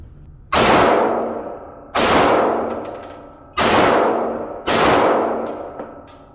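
Four loud gunshots from a Smith & Wesson M&P 9mm M2.0 Performance Center pistol at a shooting range, each sharp crack followed by a long ringing decay, spaced roughly a second and a half apart.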